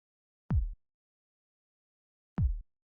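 Two deep, short kick drum thumps, well apart and isolated, each with a low booming body and quick decay.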